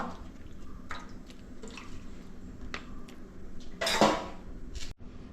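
Washed beef pieces drop into a clay pot with soft wet squelches and scattered clinks of a spoon against the pot, close and quiet, with one louder scraping clatter near the end.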